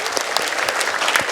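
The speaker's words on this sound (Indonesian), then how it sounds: "1, 2, 3, 4, tepuk tangan." Audience members clap in sharp, loud, distinct bursts at an Indonesian public event, individual hand claps standing out in an uneven rhythm.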